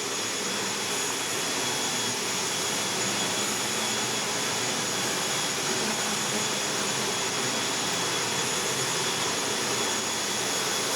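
Propeller-driven plane engines drone loudly and continuously outdoors at close range, a steady, unbroken roar with no voices.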